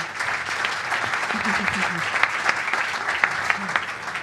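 Audience applause fills a hall at a live forum after a university dean is introduced: steady, dense clapping from many hands, moderately loud throughout, with faint voices underneath.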